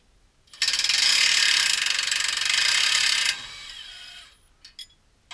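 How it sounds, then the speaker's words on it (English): A ratchet spinning out hub bolts on a 2005 Honda CR-V with a K24A1 engine, a loud, close, continuous metallic clicking burst for about three seconds, then quieter rattles and a few isolated clicks. "the next thing is to shoot out these bolts right here"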